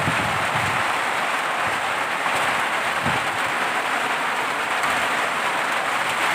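Steady heavy rain pours on a farm in the dry season, a dense, continuous hiss with occasional low rumbles, close and loud, with no talking.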